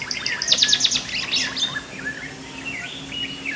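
A white-browed wagtail calls with a quick burst of sharp, high chirps, followed by thinner wavering whistled notes, fairly close with no other sounds.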